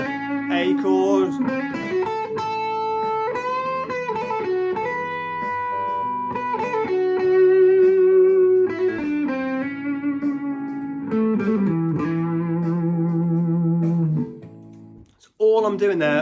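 Electric guitar picking out single chord tones in a steady, sustained line, notes shifting as the harmony changes, played alone and fairly loud.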